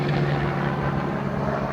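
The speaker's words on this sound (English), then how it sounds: "Oh, look at that. There's a helicopter." A helicopter passes over a summer raspberry patch, heard as a steady, broad engine-and-rotor rumble with a low droning hum, moderately loud and unbroken for a brief moment.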